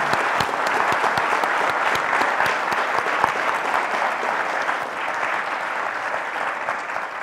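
A conference audience at a Pan IIM alumni leadership summit applauds steadily to welcome Indra Nooyi, a dense, sustained roomful of clapping that holds even and then eases slightly toward the end.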